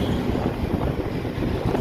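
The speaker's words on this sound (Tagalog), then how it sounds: "medyo malakas lang po yung hangin ngayon" Steady strong wind buffeting the microphone outdoors at a bridge construction site on the Pasig River, a dense low rumble that holds for the whole moment with small gusty swells.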